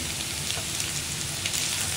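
Colocasia (taro) pieces frying with onions in a pan, a dense, even hiss of oil sizzling close up for a couple of seconds, no voices.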